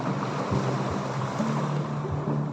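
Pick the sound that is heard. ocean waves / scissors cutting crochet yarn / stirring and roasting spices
ocean waves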